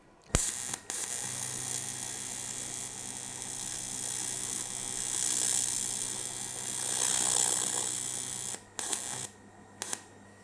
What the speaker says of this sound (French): je vais brosser un endroit pour faire un test de soudure, pour voir si l'aluminium se soude correctement.